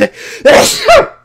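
A person sneezes twice in close succession, near and loud, the first a short wind-up breath and the second a sharp burst, during allergy season at a podcast microphone.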